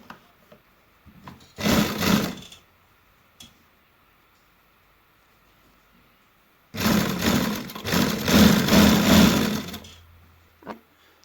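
Sewing machine stitching the front panel of a baby boy's kurta, in two bursts of rapid, even whirring, with brief ticks and handling noises between them; no talk.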